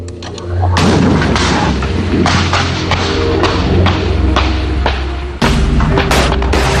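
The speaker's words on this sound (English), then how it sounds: "all the gunner has to do is lock onto a target and then fire the missile" A Javelin missile launch, heard as a heavy booming thump followed by a sustained loud roaring rush, with several sharp bangs and a second abrupt blast near the end.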